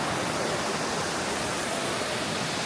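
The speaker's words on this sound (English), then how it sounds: "So there's like a little river running down," A small river stream runs at Lampo Waterfall in Ubud, giving a steady, broad rushing wash of flowing water that stays even and close throughout, with no talking.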